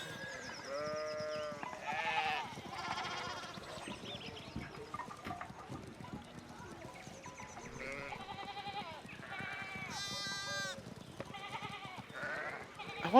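Repeated sheep bleats from a flock in the video game Pentiment, several overlapping calls at close and middle distance across a steady ambient bed, with no talking.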